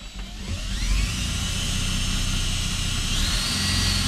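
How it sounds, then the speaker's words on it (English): A power drill bores a hole through a van roof, its loud motor whine spinning up in the first half second and then holding a steady, close, continuous whir for about four seconds with no talking. "that's my dad about to drill a hole in our roof"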